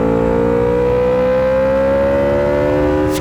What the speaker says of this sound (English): It's such a great-sounding V4.